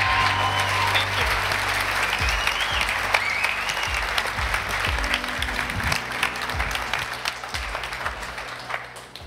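Audience applause at a live motivational talk, a dense continuous wash of clapping that holds steady and slowly eases, with scattered crowd noise and a few low thumps beneath.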